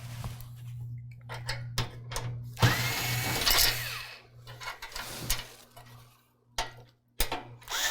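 A screwdriver works thumb screws loose from a computer case frame, giving close clicks, ticks and brief metallic scraping and whirring bursts over a steady low electrical hum, with no talking.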